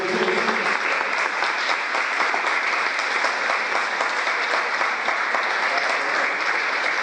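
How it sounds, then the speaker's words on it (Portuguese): Sustained, even applause from a church congregation at a worship service, a dense wash of many hands clapping steadily for several seconds without talk. "Dê uma linda salva de palmas para o Senhor"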